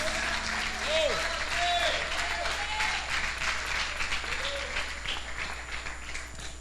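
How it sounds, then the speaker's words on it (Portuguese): A church congregation applauds, dense sustained clapping from a large crowd with scattered cheers and a voice over the sound system, steady and fairly distant before slowly easing. "Queridos, pode aplaudir Jesus."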